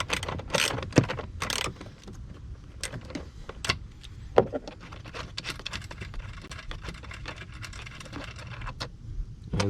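A 10mm socket wrench backing a bolt out on a Dodge Ram Promaster Winnebago Solis van, heard as close irregular mechanical clicks and ratcheting knocks over a low background hum, with no speech.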